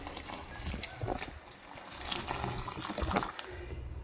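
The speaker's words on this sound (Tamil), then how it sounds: "நம்ம ஏற்கனவே சுடு தண்ணி தான் வச்சுருக்குறோம் அதனால் அந்த தண்ணியை எடுத்து ஊற்றிக்கலாம்" Hot water poured from a vessel into a pressure cooker while making vegetable biryani, a steady splashing pour close by that rises and falls over about four seconds, with no talking.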